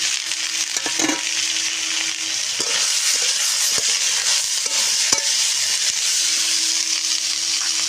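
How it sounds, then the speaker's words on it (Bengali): Bottle gourd, tomato and chillies go into a hot pan for a vegetable dal, setting off a steady, loud sizzle with a few stirring scrapes and faint clatters. "এবার আমি লাউ, টমেটো, লঙ্কাগুলো দিই।"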